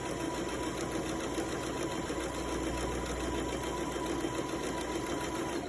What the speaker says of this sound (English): Follow the center line with the right side of your presser foot and start sewing like this.